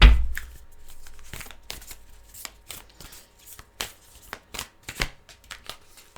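Tarot cards being shuffled during a psychic reading, a series of short crisp riffling bursts at close range, fairly loud and unaccompanied by speech.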